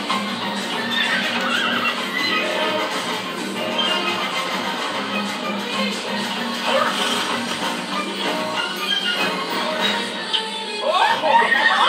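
Horses whinny and neigh repeatedly over a dense, busy mix of music and background noise from an animated Lego Batman and Ferdinand battle, with a louder whinny near the end.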